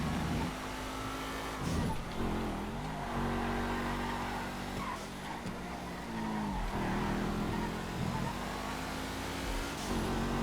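A Massacro racing in GTA FiveM roars close by, its engine rising and dropping through repeated gear shifts and revs, with faint tyre noise and continuous loud motor drone.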